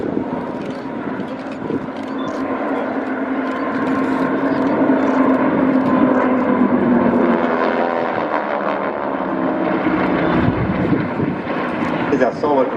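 Aircraft droning overhead at the Wings Over Wairarapa airshow, a loud sustained engine roar that swells and then fades, under an announcer's commentary.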